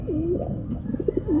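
Pigeons in a home loft, a parent pair with their young, give soft, throaty coos in a short series of rounded, wavering calls at close range, with no talking.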